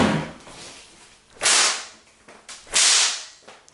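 Two loud, sharp cracks from a new alum-tanned deerskin cracker on a whip, each a bright snap followed by a brief tail, spaced about a second and a half apart, with no speech.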